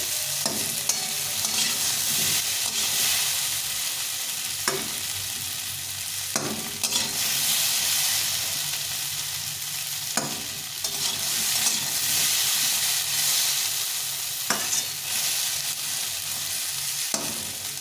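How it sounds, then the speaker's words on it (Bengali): Potatoes frying in oil in a pan for a Bengali potato curry, a steady close sizzle under intermittent sharp clacks of a spatula stirring and turning the pieces, with no talking. "একদম সুন্দরভাবে ভেজে নিলাম আলুটাকে"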